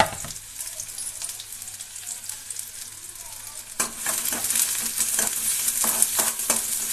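Sliced onions drop into hot oil: a quiet lead-in, then a sudden loud, close sizzle that keeps crackling with stirring scrapes of a spoon against the pan.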